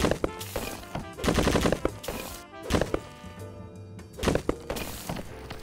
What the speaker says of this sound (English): shots outside my base